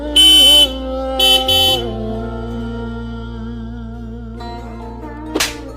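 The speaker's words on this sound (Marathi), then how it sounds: "एवढे हॉर्न कशाला मारतोय?" Loud vehicle horn honks, one long blast then two shorter toots, over a steady engine-like drone, close by.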